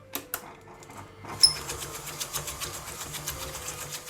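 An electric mixer beats eggs, sugar and vanilla extract. After a couple of sharp knocks, a steady, close mechanical whirring begins with a fast pulsing rattle and continues without any talk.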